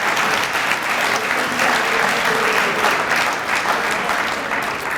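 Banquet audience applauding student athletes at a university awards dinner, a steady, full wash of clapping from a large room that holds evenly for the whole stretch.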